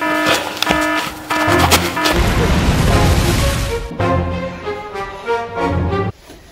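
A loud, heavy blast rumbles in the middle of a dramatic scene, its broad roar swelling for a couple of seconds and then fading under sustained musical tones, with no talk.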